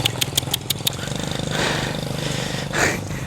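A motorcycle engine chugs steadily at low speed over a badly damaged, sinking road, with loud rattling bursts at the start and a rougher swell near the end.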